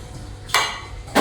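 Dry-fried tofu is pounded with two sharp, close knocks about half a second apart over a quiet background.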